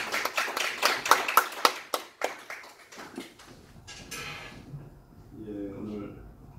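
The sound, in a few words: audience applause welcoming the pastor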